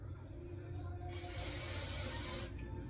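An aerosol can of hair spray hisses onto hair in one sustained, loud burst lasting about a second and a half, set against a steady low background hum.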